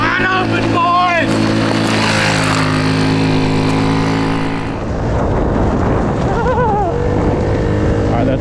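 A Honda Ruckus moped, rescued in a seized state from the woods, is ridden at about 25 to 30 mph on a wet surface. Its small engine drones loud and close with shifting pitch as it revs and eases off.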